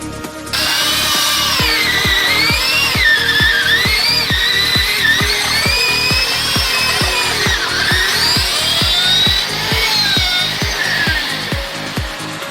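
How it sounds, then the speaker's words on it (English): A power drill whines loudly and continuously, with rapid rhythmic knocking pulses underneath as it bores holes for a bus bar up close. "drilling the holes for the bus bar?"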